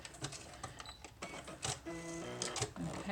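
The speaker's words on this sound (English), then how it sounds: "I'm just sewing down edges right now." Sewing machine stitching down the edges of layered paper and corrugated card for a junk journal, a fast run of mechanical clatter with brief pauses and a steadier humming stretch, close and moderately loud.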